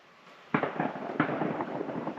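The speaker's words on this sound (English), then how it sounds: "It is a game reserve on the other side of the river there, I'm guessing, and they're shooting." Two sharp gunshots ring out from a game reserve across a river, spaced under a second apart, each a loud crack with a rolling echo, over a quiet outdoor background.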